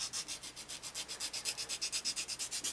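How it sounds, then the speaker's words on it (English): A sanding stick works a beveled edge on a plastic model kit part, giving a steady run of quick, rhythmic scratchy strokes, close and fairly quiet, with no voices. "Once again, come back to our friend the sanding stick."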